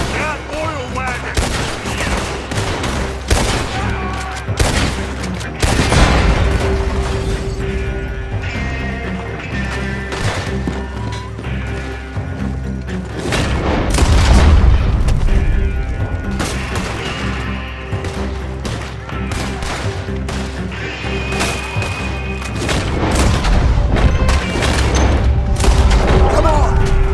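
Red Dead Redemption 2 shootout in which an oil wagon is shot: dense bursts of gunfire and heavy booming blasts keep repeating, with voices shouting over the chaotic firefight.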